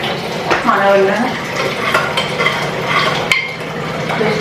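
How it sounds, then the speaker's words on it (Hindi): Food cooking in pots and pans, with stirring scrapes, a steady sizzle and light clinks of utensils against metal, close and fairly loud, with faint voices in the background. "खाना बन रहा है"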